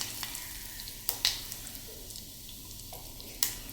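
Asafoetida sizzles in hot oil with bay leaf and cloves as the tempering for Gujarati tuver dal, a steady close crackling fizz with a few sharp utensil clicks and no talk.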